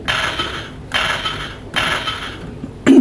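DX GoodeBurn toy from No. 1 Sentai Gozyuger giving three repeated electronic punch sound effects after its button is pressed, close and loud with short gaps between bursts.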